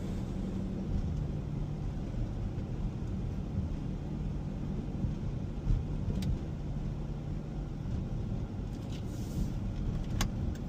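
A Jeep SRT driven in regular automatic mode, with a steady low engine and road rumble from inside the cabin running continuously at an even level, plus a few faint high clicks.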